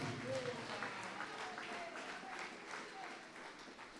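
Congregation at a home worship service applauding God, a steady wash of clapping from the gathered group at moderate level, with a brief vocal tone mixed in.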